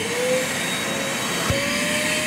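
An Einhell 12 litre wet and dry vacuum sucks up builder's rubbish with a loud, steady motor roar and a high whine, plus a brief thump as debris hits the hose midway, close up and without speech.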